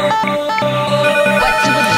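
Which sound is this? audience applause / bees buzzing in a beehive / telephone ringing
telephone ringing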